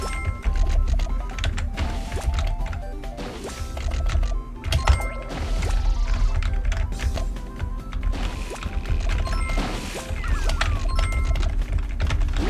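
Keys clatter on a computer keyboard during play of the game Crazy Arcade: rapid, dense clicking and tapping throughout, close and fairly loud, with occasional heavier thumps from hard key presses.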